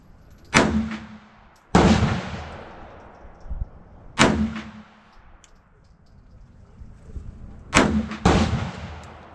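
An old Bulgarian Makarov pistol fires aged ammunition after a repair, giving five sharp, loud reports in irregular pairs and singles, each with a decaying echo, outdoors.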